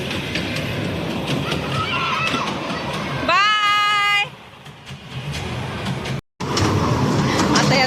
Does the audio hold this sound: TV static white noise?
no